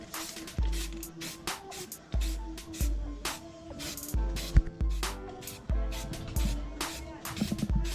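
Spray paint hisses onto the fairings of a Suzuki Raider 150 motorcycle in short, bright bursts, repeated about once a second with brief pauses between passes, close and loud.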